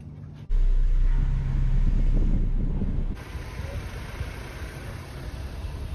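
A car rumbles out from under an iKamper Skycamp Mini 3.0 roof top tent lifted by a homemade crane, its engine starting loud and close, then easing to a steadier, softer hum.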